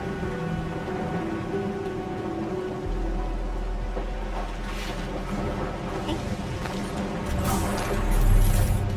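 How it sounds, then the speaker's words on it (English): Heavy rain pours in an Arknights Endfield video game cutscene, a dense steady hiss with deep rumbling beneath it and a few sharper bursts, growing louder toward the end. "It's raining harder. I can't hear anything except for the rain."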